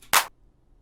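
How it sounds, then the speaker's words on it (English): A single hip hop clap sample used as a snare: one short, bright, noisy smack with no voices around it. "So we got our first clap sample,"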